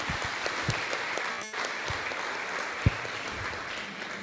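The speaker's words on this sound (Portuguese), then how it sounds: "Que bom ser recebida já com aplauso" Audience applause at a spiritist lecture, a steady crowd of clapping hands sustained throughout at moderate level, with a brief louder clap standing out near the end.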